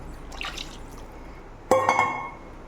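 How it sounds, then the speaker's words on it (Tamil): Water poured into a pot of kendai fish head curry, with a brief clink and a short liquid splash that sounds close and fairly loud after a quiet stretch. "கொஞ்சம் தண்ணி ஊற்றிக்கலாம்."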